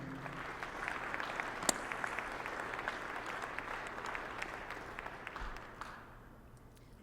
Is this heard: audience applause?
yes